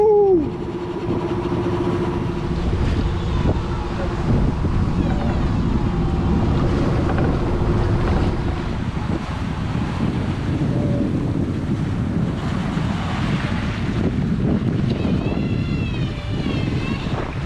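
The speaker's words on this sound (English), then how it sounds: "we are sailing into the Mediterranean" A sailboat heads into the Mediterranean near Gibraltar, with a steady rush of wind and water all the way through, plus a faint engine-like hum early on and a few faint tonal squeaks near the end.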